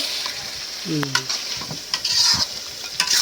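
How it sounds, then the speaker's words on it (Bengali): Meat sautéing in a pan with steady sizzling and scraping stir strokes, close and fairly loud, with a short tonal clatter near the start, during home cooking before chana dal goes in. "মাংস একবার কষাই নিই, তারপরে ছোলা ডাল দিই।"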